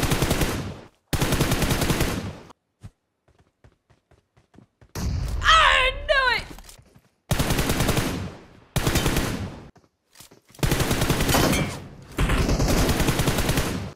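SKS rifle fire in a video game comes in several loud, dense bursts separated by short silences, with a voice talking briefly in the middle.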